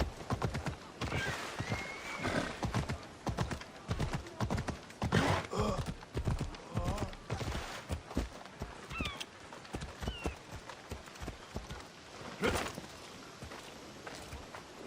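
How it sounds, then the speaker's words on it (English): Horse hooves in the video game Assassin's Creed Odyssey: a rhythmic, close clip-clop of a horse moving at pace, with occasional snorts or whinnies and some background game sounds. "It's a very nice horse. A sturdy horse."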